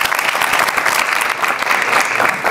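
A studio audience at a comedy show breaks into dense, loud applause, a continuous wash of clapping hands throughout the short stretch with no voices over it.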